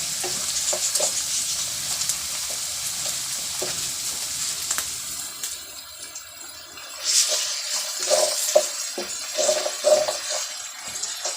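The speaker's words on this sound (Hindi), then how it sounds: "इसको भी 1 से 2 मिनट तक भूनेंगे अच्छी तरह।" Sem ki phalia (flat beans) and potatoes being sautéed in a pan, a steady frying hiss with scraping stirs that grow louder and more frequent toward the end, no voices.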